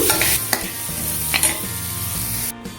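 Dried prawns frying in leftover oil in a pan, with steady loud sizzling and a few scraping stirs, close and continuous for nearly three seconds with no talking.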